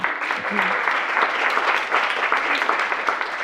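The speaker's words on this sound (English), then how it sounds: "Give everyone a round of applause there." Audience applause at a community sustainability breakfast event, a steady, dense wash of many hands clapping that holds at an even level for the whole stretch, with no voices rising above it.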